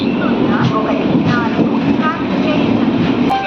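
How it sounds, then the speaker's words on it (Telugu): The Sirpur Kagaznagar–Secunderabad SF Express pulls into Secunderabad station with a loud, steady rumble of carriages and faint rail clatter, while a voice talks over it. "మన ట్రైన్ షెడ్యూల్ కంటే 13 నిమిషాలు ముందుగానే సికింద్రాబాద్కి చేరుకుంది"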